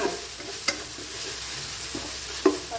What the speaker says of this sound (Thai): ใส่พริกลงไปแล้วผัดให้มันหอมค่ะ